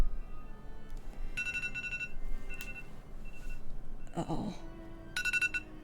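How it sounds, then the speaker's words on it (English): A phone alarm sounds in short repeated bursts of electronic beeping that stop and start, with a voice briefly exclaiming partway through. "that's my alarm."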